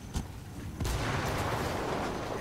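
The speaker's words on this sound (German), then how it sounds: "Hier explodiert ja alles." Explosions and blasts in a Ghost Recon Wildlands firefight: one sharp bang, then a second, heavier boom that rolls into a dense, sustained rumble of debris and chaos, loud and close.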